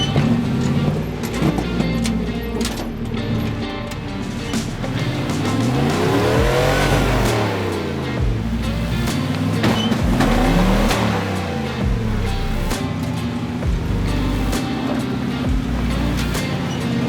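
An off-road vehicle engine revs loud and close, rising and falling in repeated sweeping surges with rough mechanical clatter throughout.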